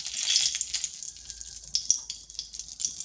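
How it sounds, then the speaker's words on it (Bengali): Two bay leaves hit heated oil in a kadai for tempering, crackling and sizzling with fine, bright spits and pops at moderate volume. "কড়াইতে তেল দিয়েছি, তেল গরম হয়ে গেছে। তাতে ফোড়নে দিচ্ছি 2টি তেজপাতা,"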